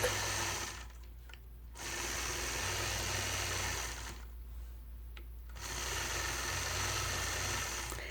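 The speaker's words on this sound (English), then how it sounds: "Working on my center block, I'll start out by stitching in the ditch." A domestic sewing machine runs steadily as it stitches in the ditch around a light pink center quilt block, a close, continuous mechanical whir broken by two brief pauses where the motor stops.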